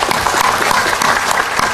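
An audience claps at a talk, a dense, loud burst of applause filling the whole short moment close by, with no voices over it.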